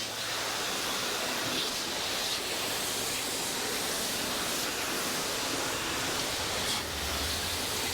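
Water sprays steadily from a 20.0 soft wash nozzle on a garden hose gun, a loud, continuous close-up hiss with no breaks.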